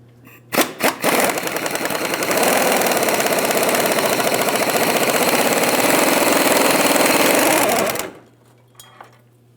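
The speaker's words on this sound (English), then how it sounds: "We're going to be using a 15mm to remove the mounting bolt." Removing a fuel tank strap mounting bolt on a 2007-2014 GMC Sierra 2500 HD 6.0L V8 with a 15mm socket on a power tool, a few short bursts then a loud, steady buzzing whir lasting several seconds before stopping abruptly.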